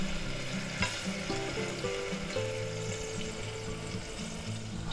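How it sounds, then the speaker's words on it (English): Two tablespoons of minced garlic sizzle in a hot pan for a potato and ham soup as they are stirred, a soft, continuous frying crackle with gentle background music tones underneath. "now we're going to put 2 tablespoons of minced garlic in there. Okay, we'll give that a little stir"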